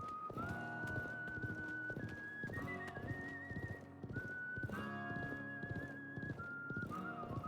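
In the video game Live A Live, a horse clip-clops with rhythmic hoof beats and neighs against a Western-style whistled melody, steady and close throughout, with no speech.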